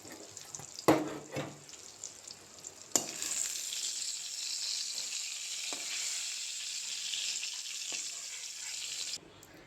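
Eggplant slices fry as begun bhaja in a pan, a steady hiss of oil sizzling throughout with a few sharp knocks early on before the sound cuts off near the end.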